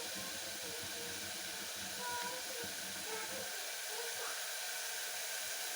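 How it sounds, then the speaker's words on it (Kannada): Tomato sambar ingredients fry in a pan over medium heat, giving a steady, broad sizzling hiss with a few faint crackles throughout. "ಹೀಗೆ ಫ್ರೈ ಆಗ್ತಾ ಬರಲಿ"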